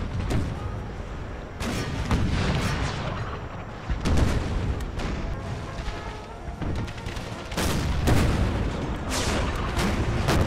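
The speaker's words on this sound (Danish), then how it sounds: "Hård beskydning her." Heavy artillery shelling in the game Empire: Total War, American Civil War mod: repeated loud booms and rumbling blasts arrive in dense bursts across the whole stretch, with no pause between volleys.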